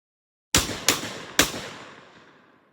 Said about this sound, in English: I'm going to just fire them off rapidly, see how the gun handles